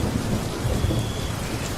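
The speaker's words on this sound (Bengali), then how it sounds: "খানিকক্ষণ পর পর কালো মেঘের গর্জন" Heavy rain pours steadily through a cartoon storm at night on a river by a boat, with low thunder rumbling beneath the downpour for the whole stretch and no voices.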